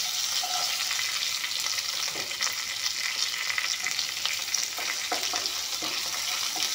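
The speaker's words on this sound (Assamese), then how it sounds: "পিঁয়াজখিনি ভালকৈ ভাজি ল'ম।" Onions fry in oil in a pan with panch phoron and bay leaves for a paneer, cashew and tomato curry, a close continuous hissing sizzle broken by occasional stirring scrapes.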